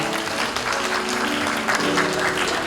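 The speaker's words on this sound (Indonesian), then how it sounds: "Tepuk tangan untuk Pak Purnomo" Audience applause at a university alumni gathering in honor of a donor, a dense steady clatter of clapping with a bit of voice underneath.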